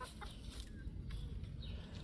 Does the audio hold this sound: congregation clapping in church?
no